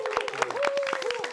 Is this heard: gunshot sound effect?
no